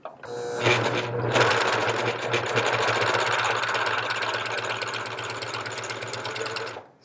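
A Janome 634D serger set for a rolled hem chains off thread, kicking in after a brief pause with a loud, fast, even mechanical chatter that runs steadily for several seconds before cutting off abruptly.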